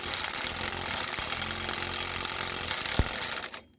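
An impact wrench runs on the track bar bushing nut of a Ford Super Duty, a continuous harsh rattling buzz that ends in a sharp knock before cutting off abruptly.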